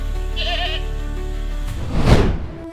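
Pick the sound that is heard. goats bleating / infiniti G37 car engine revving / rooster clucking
goats bleating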